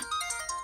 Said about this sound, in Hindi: अरे तब्बू का फोन है।